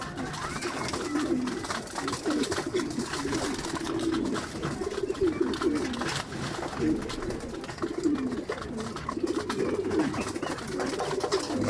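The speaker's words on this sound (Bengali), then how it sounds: "এখানে আমার একটা গোল্লা কবুতর আছে, এই যে এখানে আমার একটা গোল্লা কবুতর আছে, দুইটা মাদি, এই যে খাবার খাচ্ছে।" Several pigeons, including breeding birds, coo steadily at close range while they feed in a loft, with a soft continuous rhythm of overlapping calls and rustling, no talk.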